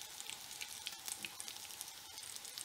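Chicken shami tikki patties fry in shallow oil, giving a steady close-up sizzle with light crackles and small pops throughout.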